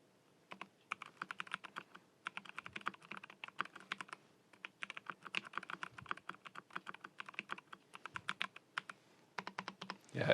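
Steady, rapid typing on a computer keyboard, crisp clicky keystrokes in quick bursts with short pauses, close and quiet, no voices.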